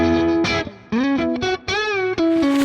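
A heavily distorted electric guitar plays a few sustained, saturated notes and chords with a thick, buzzy, fuzz-like amp tone from a Mesa Boogie amp simulation in AmpliTube 5.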